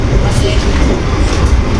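Loud, continuous rumble and clatter inside a Progo passenger train running between Jakarta and Yogyakarta, a brief steady stretch of rolling rail noise.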